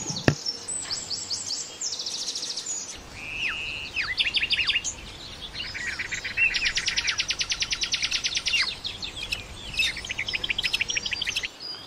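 Birds sing among leaves and branches, many bright chirps, trills and rapid repeated notes overlapping at moderate distance over a soft natural background, continuing throughout with no talk.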